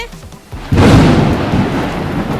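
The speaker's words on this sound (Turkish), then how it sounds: "Çok yağmur yağıyor." Sudden loud crack and rumble of thunder breaking over heavy rain in a park, the downpour hissing steadily after a brief quieter start.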